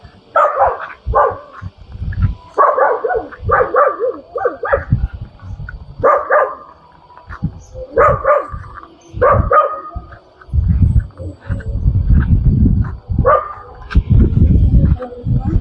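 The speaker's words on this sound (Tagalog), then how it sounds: "May aso." A dog barks repeatedly in loud, close bursts, some yippy and whiny, with a few short pauses between volleys.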